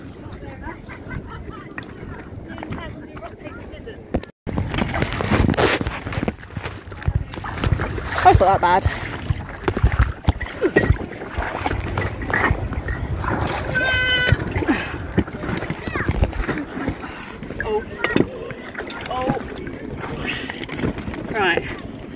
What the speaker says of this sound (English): This is literally like a proper boat.